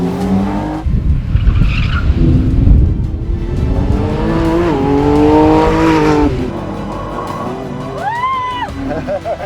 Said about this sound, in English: Oh, listen to the tyres.